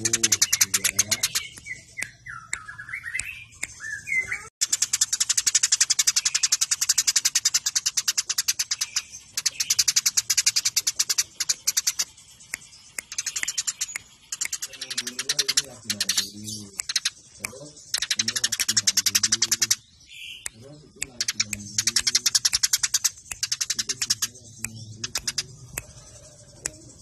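A recorded sparrow song for training songbirds, with rapid chirps and trills in bursts, close and fairly loud, under people talking.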